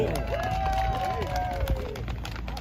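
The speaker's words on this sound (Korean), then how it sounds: "원장님 박수로 환영해주세요." An audience at a silver-town retirement community park golf event applauds to welcome the director, a moderate spread of clapping with chatter and voices underneath.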